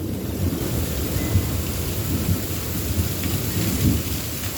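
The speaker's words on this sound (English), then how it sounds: "This is like a major storm." Heavy thunderstorm in Florida: dense, steady downpour with low rolling thunder rumbling underneath, loud and close, with no talking.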